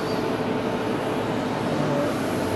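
A Japan Airlines Airbus A350 airliner at Fukuoka airport, a broad steady engine roar heard from a distance throughout, without pauses.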